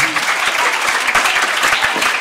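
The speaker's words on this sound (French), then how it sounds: "Est-ce qu'on peut d'abord applaudir pour Kassema?" Studio audience applause during an educational spelling game show, brisk clapping from a group of children and adults, close and continuous with a little talk underneath.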